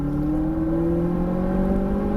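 An exotic race car's engine drones loudly and steadily at high revs under full throttle on a track, its pitch rising gradually as it accelerates, with no voices.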